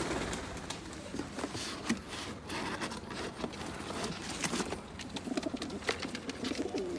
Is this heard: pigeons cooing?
yes